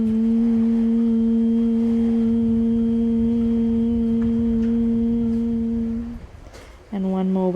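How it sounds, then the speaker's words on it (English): Sustained humming on the exhale in a gentle yoga breathing exercise, a long steady low tone held for about six seconds, then a brief pause and a new hum begins, close and clear. "Two more times, humming into your hips."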